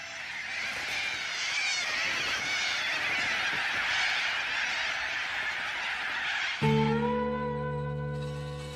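A large flock of cockatoos feeding on farm stock feed screeches continuously in a loud, dense chorus, then gives way to a single sustained, harmonic honking call near the end.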